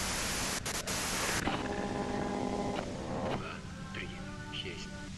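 Harsh broadband radio static from the Disco Elysium game, loud and steady at first, then thinning out as tonal game sounds and music come through beneath it.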